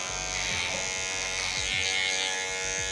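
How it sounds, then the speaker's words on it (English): Andis Slimline Pro cordless lithium hair clippers buzz steadily and close up during a skin fade haircut, a continuous electric hum with no talking. "I'm using my Andis wireless Prolithium clippers, the Slimline Pro, sorry."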